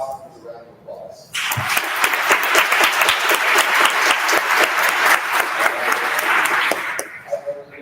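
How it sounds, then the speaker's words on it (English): A roomful of people bursts into sustained applause, dense steady clapping for several seconds before it stops and a voice returns. "we're going to give it a house and a round of applause"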